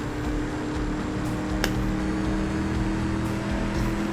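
A Pontiac GTO engine held in sixth gear in the racing game CSR2, a loud, steady drone with a constant pitch and a brief swoosh partway through, with no talk.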